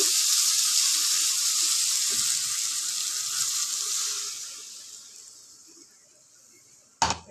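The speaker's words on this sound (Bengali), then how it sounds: "এবারে ভেতরে আমি জল দিয়ে দেবো পরিমাণ মতো" Water poured into a pan of sizzling spiced curry with ginger and garlic, a loud bright hiss that slowly dies away over several seconds, ending with a brief clatter.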